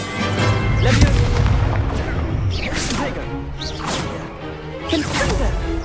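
Magic spell effects from a Hogwarts Legacy combat sequence: repeated whooshing swishes and booming impacts in rapid succession, loud and close, with a voice talking over them.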